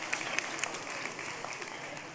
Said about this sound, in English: Come on, let's give God a round of applause.